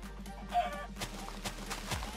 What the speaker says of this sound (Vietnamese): Gà đây nhiều quá vậy